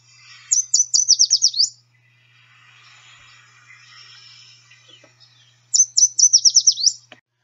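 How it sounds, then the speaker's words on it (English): A yellow warbler male sings two bright, rapid songs of quick repeated sweet notes, each phrase about a second long and separated by a gap with faint background chatter, clear and fairly close. "Our yellow warbler, the males, of course, produce a pretty song"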